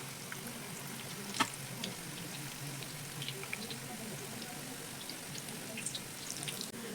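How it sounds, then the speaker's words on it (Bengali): Crunchy homemade snacks sizzling in hot oil in a pan, a steady, moderately quiet hiss of frying with faint crackles throughout and one brief louder pop. "তেলের মধ্যে দিয়ে দিয়েছি"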